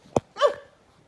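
A person imitates a dog with a single close vocal woof, preceded by a short sharp click, then silence.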